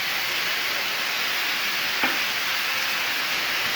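Chicken and chopped tomatoes sizzling and frying in a pan, a steady hiss with a faint stir knock midway.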